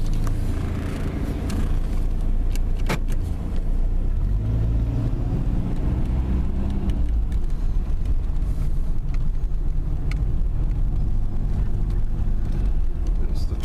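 A car driving home along neighborhood roads, heard from inside as a steady, loud engine and road rumble that barely changes, with a few faint clicks and no talking.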